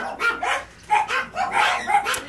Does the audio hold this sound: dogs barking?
yes